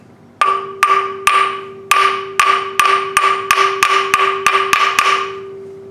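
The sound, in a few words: hammer peening threads on TH400 transmission part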